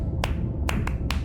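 Imitated sperm whale coda clicks in the Eastern Caribbean 1+1+3 pattern: four sharp, dry clicks spaced unevenly over a steady low background hiss.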